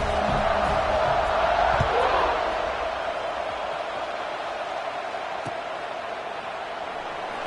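A football stadium crowd just before kickoff makes a broad, continuous roar that swells early and then settles into a steady murmur, with a commentator's voice over it.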